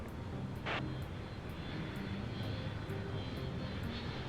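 A steady, loud aircraft engine drone fills a flight simulator cockpit without a break, with a faint repeating tick and one brief hiss partway through.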